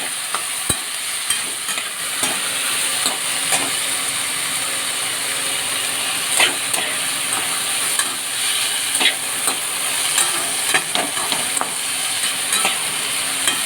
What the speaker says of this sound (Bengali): আদার সঙ্গে আলু ভাজা উচ্ছে ভাজার সঙ্গে খুব ভালো সুন্দর যায় এবার ফ্রাই করে দেখুন